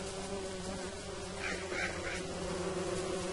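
Killer bees in the game Don't Starve: a steady insect-like buzzing drones on with a constant hum underneath, with a brief warbling flutter midway; no voices.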